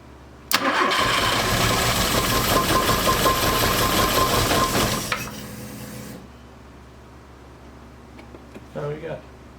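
A Porsche 924 engine turns over and runs loud and rough for about five seconds, then cuts out and stalls into near silence, with a faint clatter near the end.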